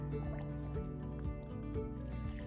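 A young otter swimming in a shallow baby pool, soft close splashing and watery sloshing with faint drips, steady and gentle throughout.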